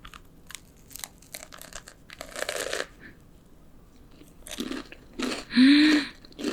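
Crunchy bites of an air-fried salted caramel pecan cream cheese pastry: several crisp crunches and chewing sounds close to the mic, quiet between bites, ending with a brief hum.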